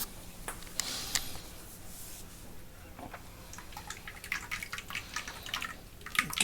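Malt extract wort is poured from a can into a vessel for brewing a Coopers Stout. The result is a faint, thin trickle of liquid with scattered drips and small clinks, close by with no speech.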